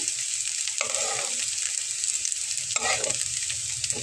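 Potato and onion pakoras deep-frying in oil give a steady, close crackling sizzle throughout, with two brief louder bursts of bubbling as pieces are moved or lifted.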